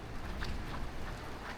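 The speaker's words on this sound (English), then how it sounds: "The rain is getting heavier" Rain falls steadily during a thunderstorm, a constant hiss of drops on surfaces, faint and even throughout with no distinct thunder and no voices.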